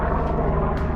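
A helicopter passes overhead during a walk on the Kings Creek trail, giving a loud, steady low rumble with a pulsing rotor throb that fills the whole second, with no voices.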